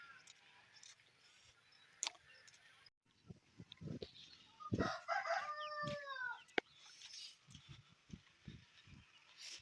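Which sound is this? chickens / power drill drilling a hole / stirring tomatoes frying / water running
chickens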